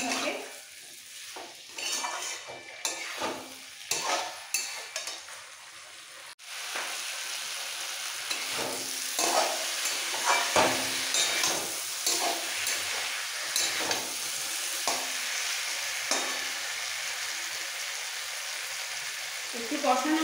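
Drumstick stalks and potatoes being stir-fried in poppy-seed paste in a pan, with repeated scraping and clattering spatula strokes, then a steady sizzle under continued intermittent stirring knocks.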